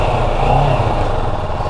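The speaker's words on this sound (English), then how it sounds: "Let me let it warm up a second and then I'll give you guys a little tiny rev." Stock-exhaust Kawasaki Ninja 650 sport bike giving a short, mild rev, a steady low engine drone close by with a slight swell midway and no voices.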